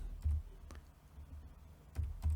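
Faint, sparse keystrokes on a computer keyboard as code is typed, a few soft clusters of taps against a quiet room.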